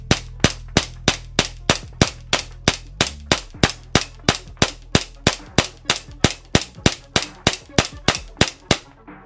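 A JAG Arms GMX gas blowback airsoft pistol fires a full magazine of BBs: about thirty sharp, snappy cracks in a steady, evenly spaced rhythm, close and loud, with no talking over them.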